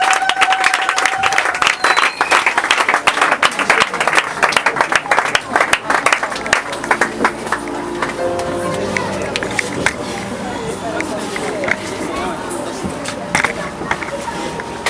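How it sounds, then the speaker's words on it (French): Church congregation at an elders' consecration service cheering and clapping, loud and crowded at first, with sharp hand claps and shouts that gradually thin out and soften, voices mixed in throughout. "Ah, mais acclamez bien."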